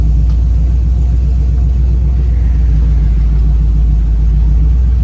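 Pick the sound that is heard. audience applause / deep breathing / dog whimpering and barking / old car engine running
old car engine running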